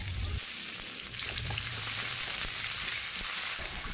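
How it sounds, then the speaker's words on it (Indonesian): Sliced shallots, garlic, green chilies and curly red chilies sizzle steadily in a little hot cooking oil in a pan, a loud continuous frying hiss with occasional stirring and no talk. "Tumis irisan bawang merah, bawang putih, cabai hijau, dan cabai merah keriting."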